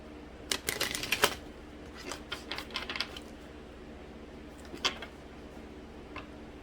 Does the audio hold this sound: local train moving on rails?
no